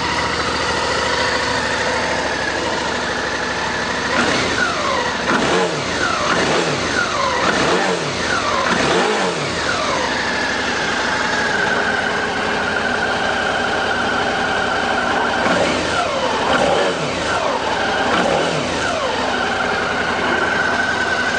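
A 2012 Suzuki V-Strom 650 ABS fuel-injected adventure motorcycle engine idles and is blipped several times in two bursts of revving, loud and close, with no talk.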